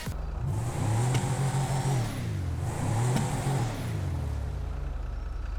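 A Chop Shop DLC car in GTA 5 Online, which seems broken with no working lights, revs its engine from outside in two long rising-and-falling pulls, loud and steady with no talk.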